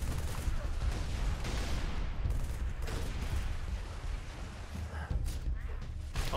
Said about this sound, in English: Oh god, we got a machine gun turret.